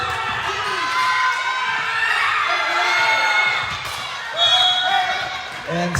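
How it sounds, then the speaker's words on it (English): A crowd at an interlodge basketball game cheers and jeers loudly, with shouts and whoops over bouncing balls, while a commentator talks throughout. "And Santos, hearing the cheers and the jeers from the crowd."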